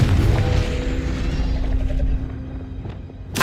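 A Confringo fire spell bursts in Hogwarts Legacy: one loud, low boom at the start that rumbles and slowly fades, followed by a faint tail of lighter crackling.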